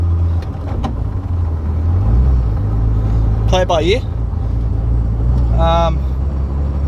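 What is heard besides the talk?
Nissan Skyline R32 car engine running rough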